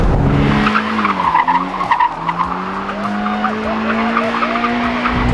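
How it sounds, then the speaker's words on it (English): A Mazda Miata NC2 with a helical limited-slip differential slides through corners, its tires squealing in long, loud drawn-out skids that rise and fall over a steady engine note. "which is why you see me sliding this thing around corners"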